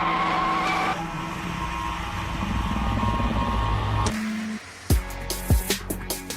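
A Ford Mustang GT500 muscle car drives hard, its engine roaring steadily, then a sharp transition into squealing tires and revving bursts that rise and fall in quick succession, loud and close.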